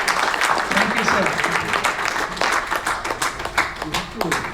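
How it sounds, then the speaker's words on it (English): Applause for champions at a ceremony, a steady crowd clapping, with people talking over it throughout. "A big round of applause."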